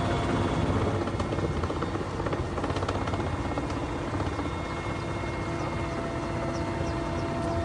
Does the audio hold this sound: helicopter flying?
yes